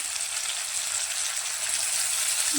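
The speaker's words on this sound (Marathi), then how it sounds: "तर या तेलामध्ये आपण टोमॅटो फ्राय करून घेऊया।" Tomatoes frying in hot oil in a pan, after green beans have been fried in it, a steady dense sizzle with no pauses, close and fairly loud.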